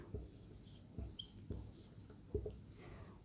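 Marker or chalk writing on a board during a biology lesson, a series of short scratchy strokes and taps at irregular intervals, fairly faint and close.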